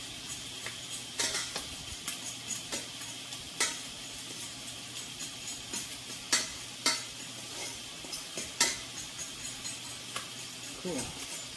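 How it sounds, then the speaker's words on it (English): A fork fluffs cooked rice and mixes it through vegetables in a pan, giving repeated soft scrapes and light taps in a loose rhythm over a faint sizzle, with a voice speaking at times. "I'm going to take a fork and I'm going to fluff the rice so that I can mix it up with the veggies and the other stuff"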